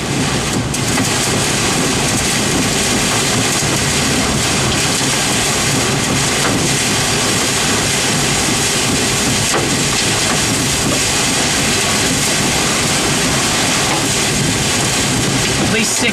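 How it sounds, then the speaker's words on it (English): High storm winds of at least 60 mph roar in a loud, constant broadband rush that buffets the microphone throughout, during a North Texas storm with hail and heavy rain. "At least 60-mile-an-hour winds."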